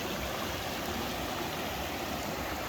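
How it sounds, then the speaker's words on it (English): A small tributary stream in the Colorado backcountry runs steadily, its broad, even rush of flowing water close by and unbroken, with no voices over it. "Come to another little tributary stream crossing here."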